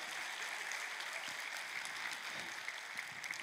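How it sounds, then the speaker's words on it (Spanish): A church congregation claps during a Spanish-language sermon, a soft, distant, even wash of applause that holds steady throughout. "un aplauso al Señor."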